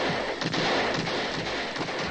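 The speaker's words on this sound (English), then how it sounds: "Number 5 is blown to pieces by heavy gunfire." Heavy gunfire in a read-along storybook scene, a dense continuous roar of blasts and rumble that fills the whole moment, loud and close with no voice over it.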